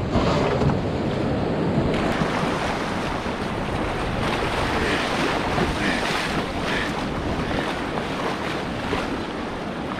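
Roaring whitewater rapids on a wild northern Canadian river churn loudly and continuously around a paddler, a dense rushing wash mixed with wind buffeting the microphone, with no voices.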